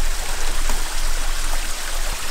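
Water being poured out as an offering in a cedar tree ceremony makes a continuous splashing, trickling rush that stays steady and close for a couple of seconds, with no talking.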